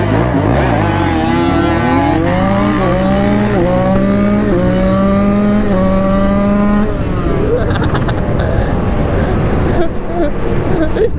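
Stock Yamaha Banshee two-stroke racing close by, a loud, raspy engine whose pitch sweeps up through repeated gear shifts before cutting out near the end.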